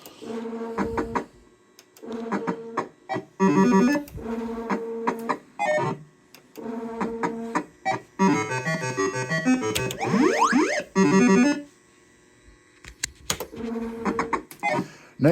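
A 1988 JPM Fast Trak MPS2 fruit machine plays alone, giving off bursts of electronic beeping melodies and chiming tones separated by short pauses, with a rapid rising-pitch run and whirring reel noise in the middle.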